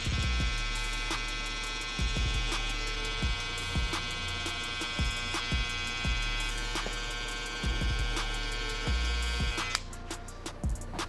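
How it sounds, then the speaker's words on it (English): An electric trimmer blends hair during a kid's fade haircut, buzzing with a steady motor hum broken by short repeated pauses and strokes, close up, with no talking. "just kind of blend them right back out with the trimmer"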